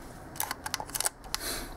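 The self-timer of a 1955 Leica M3 double-stroke film rangefinder runs with a quiet whirring buzz broken by several small mechanical clicks and ticks, close up and alone.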